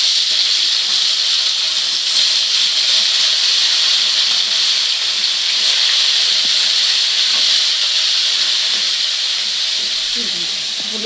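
Rohu fish pieces rubbed with turmeric and salt sizzle steadily in hot oil, a loud continuous frying hiss that holds for several seconds with little change.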